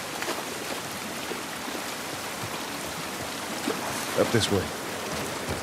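Steady rain falling outdoors in the video game The Last of Us Part 1, a constant even hiss filling the background with a few brief knocks, while a voice speaks briefly over it.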